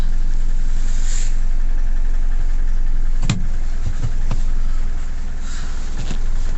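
Nissan Navara D40 2.5 dCi diesel engine, with a fuel pump fault and air in the fuel system, idling steadily and loudly close by, with a continuous low rumble and a few faint knocks and clicks.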